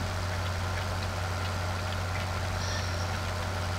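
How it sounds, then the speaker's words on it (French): A tractor engine idles in Farming Simulator 15, a steady low rumble with a constant droning hum, even and continuous with no other sounds. "Alors avec ce beau petit tracteur"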